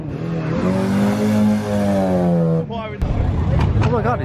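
A Toyota Supra sports car engine revs loudly nearby with a rising, sustained roar that ends abruptly, followed by a burst of excited voices and crowd noise.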